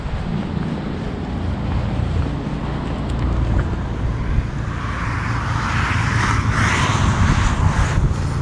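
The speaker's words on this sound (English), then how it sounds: "It's really windy" Strong wind buffeting the microphone outdoors at a ruined house site, a loud continuous rumbling roar that swells into harsher gusts toward the end, with no talk.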